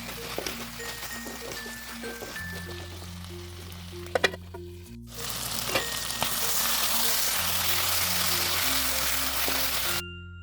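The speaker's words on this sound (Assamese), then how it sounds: "আলুখিনি অলপ সিজালৈকে ভাজি লৈছোঁ।" Diced potatoes frying in a pan over a medium gas flame give a soft sizzle that swells into a louder, steady hiss halfway through, with background music underneath.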